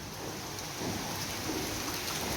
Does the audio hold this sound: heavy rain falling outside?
yes